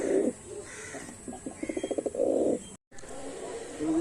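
Green pigeons cooing in a loft during rain: a short series of rapid, rhythmic coos, close and moderately loud, followed by softer bird sounds over a steady background hiss.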